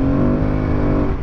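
An Aprilia Tuareg 660 motorcycle is pushed hard off-road while sliding sideways, its engine holding a loud, steady, close-up drone with a rough throaty rasp and no talk over it.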